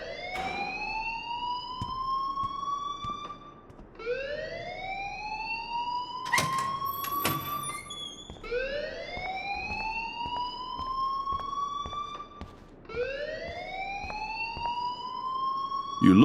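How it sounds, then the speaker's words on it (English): Rising, whooping electronic alarm tones from the video game Life is Strange, repeating in four long sweeps at a steady loud level with a few sharp clicks and knocks between them; no talk. "please turn off that alarm since that's your job"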